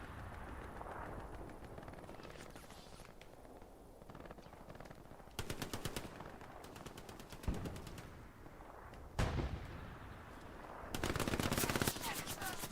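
Aircraft strafe run gunfire in Hell Let Loose on the Kursk map, with sustained rapid bursts sweeping in over a trench line, punctuated by sharp louder cracks amid a constant battlefield din.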